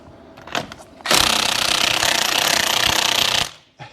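An impact tool hammers rapidly against an old Dodge lug nut to flatten its sides, a loud, close, continuous rattling burst of about two and a half seconds following a few lighter taps.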